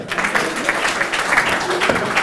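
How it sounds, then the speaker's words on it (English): Sustained audience applause after a business presentation, a steady wash of many hands clapping at moderate loudness throughout, with faint voices mixed in. "Let's give him a clap."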